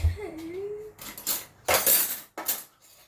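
Metal cutlery clinks and rattles in short bursts as a teaspoon is picked out from a drawer or tray at home, close by, with a voice briefly heard at the start.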